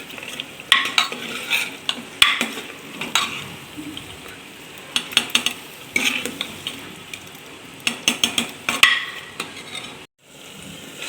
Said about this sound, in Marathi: वेलची पूड घातलं की छान असं मिक्स करून घ्यायचं आहे